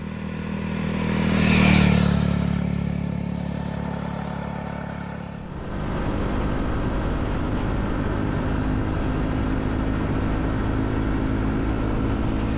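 A Triumph Speed 400 with a 398cc single-cylinder engine rides along, its engine note rising to a loud peak early, then settling into a steady, rough drone mixed with road and wind noise for the rest of the ride.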